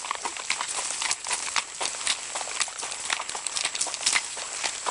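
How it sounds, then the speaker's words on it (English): Horses walk along a road on the way back from a ride through mountain woods, their hooves giving a steady, close clip-clop with overlapping irregular beats. "the horses know they're headed back to the barn"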